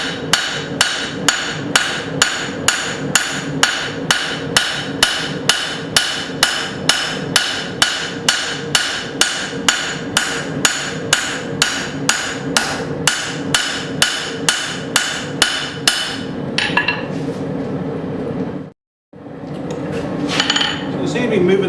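A light hammer forging a hot steel short-body tomahawk rings out in steady, evenly spaced strikes for about sixteen seconds, loud and close, then pauses briefly before a few scattered knocks.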